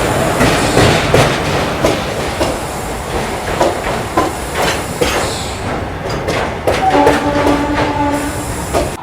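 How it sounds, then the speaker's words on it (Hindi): The Shatabdi Express pulls out of Jaipur Junction station, with rolling clickety-clack from the coaches, metallic knocks and rattles, and a brief squeal of wheels near the end, heard up close from inside. "फाइनली अपनी ट्रेन निकल चुकी है जयपुर जंक्शन रेलवे स्टेशन से"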